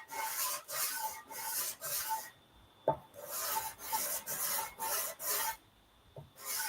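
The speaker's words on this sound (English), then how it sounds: "tear off a little piece of 400. Put it on this sanding block right here." A 400-grit sheet on a hand sanding block rasps back and forth with light pressure in quick rhythmic strokes. Bursts of strokes are separated by brief pauses, with a single sharp knock midway; the sound is close and fairly quiet.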